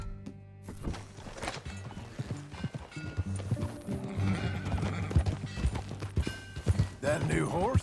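Horse hooves clip-clop at a steady walking pace in the video game Red Dead Redemption 2, with a horse whinnying near the end over a low background hum.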